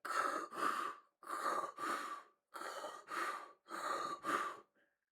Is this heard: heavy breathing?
yes